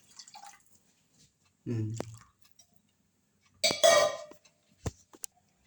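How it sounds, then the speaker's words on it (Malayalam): Water is poured into a pot of rasam along with tamarind water, heard as two short, close splashing gushes separated by quiet, followed by a few light drips and clinks. "ഇനി അതിലേക്ക് ഇതിൻ്റെ കൂടെ തന്നെ മൂന്ന് കപ്പ് വെള്ളവും കൂടി ചേർക്കണം"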